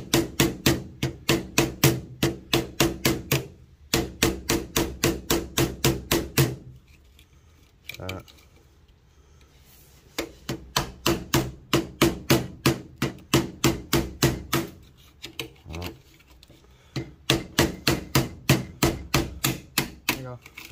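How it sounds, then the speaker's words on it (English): A metal paint scraper strikes a circuit board being depopulated for gold and silver recovery. Rapid sharp taps come in fast rhythmic runs close up, broken by short pauses. "just putting the paint scraper against it, giving it some taps."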